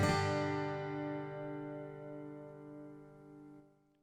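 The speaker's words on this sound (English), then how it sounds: "which means that when I play my chord, all of the strings are going to be able to ring out." A single acoustic guitar chord strummed once with all strings ringing clearly, played at a beginner lesson pace; the bright attack fades slowly over about four seconds, alone and with no voice.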